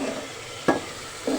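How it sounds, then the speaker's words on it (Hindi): Ground chili, turmeric, coriander, salt and mustard seeds frying in a pan for aloo gobi, with a soft close sizzle broken by two brief scraping stirs. "सब डाल के मैं इसे अच्छे से 5 से 10 मिनट के लिए भूनूंगी"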